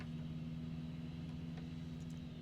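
A truck engine in American Truck Simulator runs as a steady, fairly faint low drone with a strong constant hum, holding an even pitch without a clear rise.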